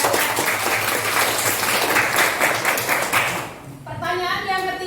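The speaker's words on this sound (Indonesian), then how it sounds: "Tepuk tangan untuk teman-teman." Classroom of students clapping for classmates, a loud continuous burst that cuts off near the end as a voice begins speaking.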